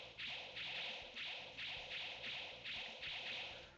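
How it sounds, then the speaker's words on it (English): Adamantium Wolverine's claw swipes in a MUGEN fighting game, a rapid regular series of about eight heavy, dense whooshing slashes with no talking. "for Adamantium Wolverine, his claw swipes sound a lot more dense, more heavy,"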